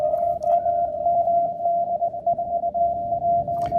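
Ham radio Morse code sidetone during a pile-up, a single steady tone keyed in rapid dots and dashes, loud and continuous over faint background hiss.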